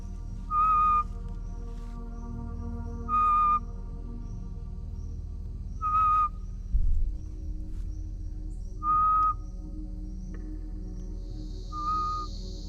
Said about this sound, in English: when he whistles that specific note, curious little forest creatures, like the flying squirrel, will come out to investigate